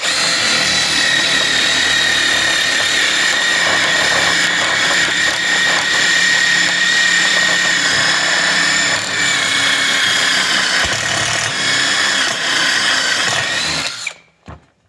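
A VEVOR 20V impact driver runs a step bit through 1/8 inch material, giving a loud, continuous, high-pitched grinding whine for about fourteen seconds before it stops abruptly.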